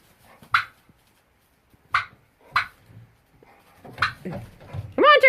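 A dog in a barn gives a handful of short, sharp barks spaced apart, ending in a higher whiny yelp, fairly close in an otherwise quiet space.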